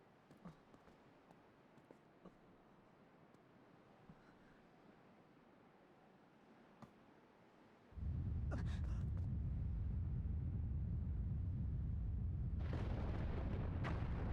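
A big explosion in a Zelda game on the Twilight Princess Castletown storyline bursts in midway after a quiet ambient stretch, becoming a loud, sustained roaring rumble that keeps going, with a further crackling surge near the end.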